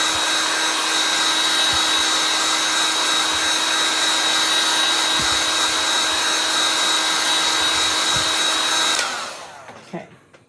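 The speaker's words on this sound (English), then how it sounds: "let's give this a quick blow dry here" Hair dryer blows steadily and close on a Chalk Couture craft project, a loud continuous whirring hiss with a high whine that cuts off near the end, followed by faint handling noises.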